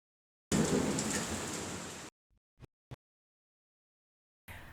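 Heavy downpour outside during a walk near Epcot at Disney World, a dense roar of rain that pours steadily for about a second and a half, then cuts off, followed by a couple of brief thumps and a faint return of rain.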